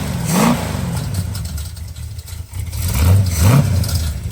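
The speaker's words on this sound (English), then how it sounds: "the main noise is actually the flapper valve in the passenger manifold" A rebuilt 426 Hemi idles and blips its throttle, with an exhaust flapper valve in the passenger manifold rattling and loose chunks clattering in the old mufflers; two short revs come close and loud around the rough, uneven idle.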